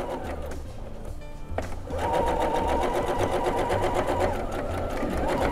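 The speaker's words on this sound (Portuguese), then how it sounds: "Alfineto e aí máquina de costura com a sapatilha de zíper." Sewing machine fitted with a zipper foot stitching in a zipper, starting after a short pause into a fast, steady mechanical rattle that runs close and continuous to the end.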